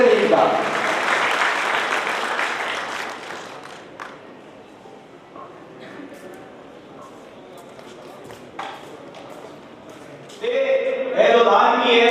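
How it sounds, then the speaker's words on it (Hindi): An audience claps loudly at a district talent-honour ceremony in Bikaner, with a strong burst of applause at the start that fades, then returns near the end, and voices heard in between. "उनको जोरदार ताली से स्वागत कीजिए"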